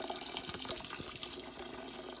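Sparge water pours steadily over the grain bed during home brewing, a faint continuous splash and trickle with no break.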